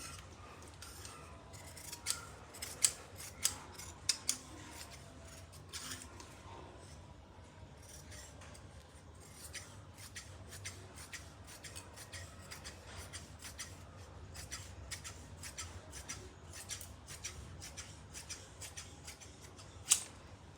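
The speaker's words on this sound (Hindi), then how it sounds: "ये देखिए, अब हम ये जो पोंचा निकाला था इसको हम अलग काट लेंगे" Scissors cut through salwar fabric, giving a run of quiet, close snips and crisp blade clicks at an irregular pace, with a few louder closing snaps.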